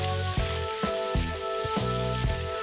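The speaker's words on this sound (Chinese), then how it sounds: "继续起锅倒油，下葱姜蒜爆香，然后倒入虾仁翻炒，炒至变色后再倒入莴笋、" Shrimp, celtuce, wood ear mushroom and carrot are stir-fried in oil in a wok, giving a close, loud sizzle broken by regular tossing strokes, with no talking.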